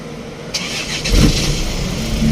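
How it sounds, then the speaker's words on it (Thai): A used Isuzu Dragon pickup truck engine cranks briefly, catches and starts on the first try, then settles into a steady, loud idle close by. "ฟังเสียงเครื่องยนต์กันหน่อยนะครับ ว่าเป็นยังไง สตาร์ทติดง่ายไหมนะครับ"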